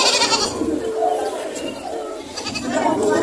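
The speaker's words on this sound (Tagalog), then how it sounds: "Daming kambing ngayon." Goats bleat at a busy livestock market before a fiesta, with repeated wavering cries rising over crowd chatter and people talking nearby, the whole scene loud and dense.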